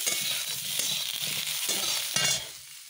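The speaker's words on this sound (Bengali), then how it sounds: "আর এটা এঁচড় ভাজা করছি।" Young jackfruit fries in a pan with a steady, moderate sizzle, broken by scraping stirs that swell louder near the end before easing off.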